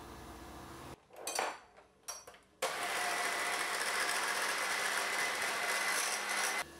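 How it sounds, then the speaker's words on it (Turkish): An electric mixer whips cream in a mixing bowl. A few brief clinks and bursts lead into a steady, loud, high whirring drone that runs unbroken to the end. "Mikserle çırpacağım"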